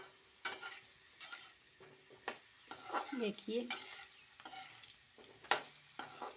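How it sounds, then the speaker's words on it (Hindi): Vegetables sizzle and crackle in a hot pan while a spoon scrapes and stirs in several sharp strokes, with a brief spoken word. "हमारी सब्जी बन रही है।"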